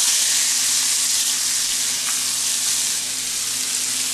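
Grated carrot frying in butter in a pan while making carrot halwa, a steady dense sizzle that holds evenly throughout with no voices.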